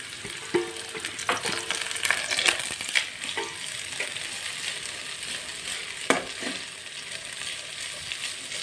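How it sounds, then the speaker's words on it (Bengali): Shredded cabbage, carrot and capsicum are stir-fried in a pan for street-style chowmein, a steady close sizzle broken by clattering scrapes and tosses of a spatula, with no talking. "এখন দিয়ে দিচ্ছি অল্প বাঁধাকপি কুচি"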